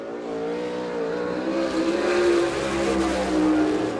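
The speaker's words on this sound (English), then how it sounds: "Now on the racetrack position, time trial activity in car number 4, the John Baker sprint car out of Danville, Indiana." Sprint car out on a dirt track at the All Star Circuit of Champions in Abbottstown, PA, making a time trial lap: a loud, sustained, high-revving engine roar with shifting pitch as the car powers around the oval.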